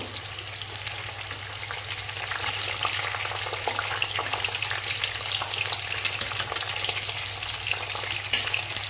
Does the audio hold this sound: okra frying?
yes